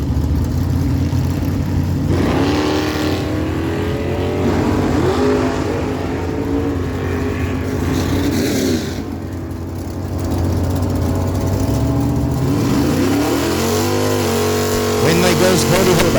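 Drag race cars, among them a Chevy Camaro, rumble loudly and steadily at the Miramichi Dragway strip, with engine tones rising as they launch and someone commentating over the din.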